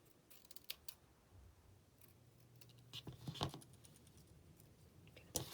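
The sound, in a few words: cutting Halloween tabbed index cards with scissors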